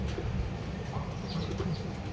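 Racing pigeons coo softly at a club training loft in Calauag, Quezon, a few low murmuring coos over steady outdoor background noise.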